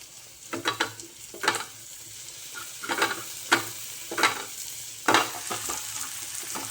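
Tomatoes and onion frying in a thick iron tawa, with a steady sizzle under repeated scraping stir strokes at an irregular rhythm, close and clear, no voices.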